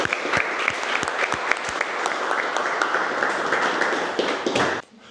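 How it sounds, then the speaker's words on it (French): Audience at a Belgian basketball show applauds steadily for about five seconds, a dense wash of many hands with a few sharper claps, fading to near silence at the end. "Voilà, on l'applaudit."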